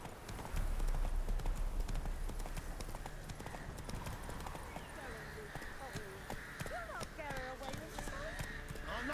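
Horse hooves pound at a steady gallop in The Witcher 3 on Xbox One X, close and continuous under a voice talking throughout.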